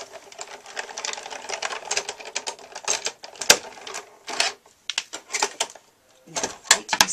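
A Cuddlebug embossing machine is cranked by hand, pushing plates and an embossing folder through its rollers. Close, rapid ratcheting clicks come in uneven bursts with brief pauses.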